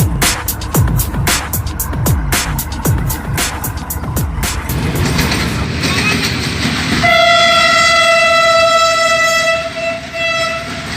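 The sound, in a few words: Bahauddin Zakariya Express train departing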